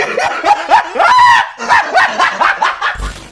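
Repeated yipping dog barks in quick bursts, loud and close, with whiny pitch-bending cries between them; no other sound competes.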